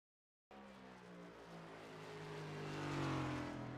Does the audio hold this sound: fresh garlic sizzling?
no